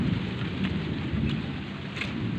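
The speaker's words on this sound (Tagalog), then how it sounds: "Ala, umulan na talaga." Steady heavy rain pours down in Sangli, Cavite, with a dense constant hiss and faint rumbles of thunder underneath, no voices.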